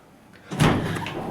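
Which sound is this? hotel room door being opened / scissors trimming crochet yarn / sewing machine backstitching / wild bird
hotel room door being opened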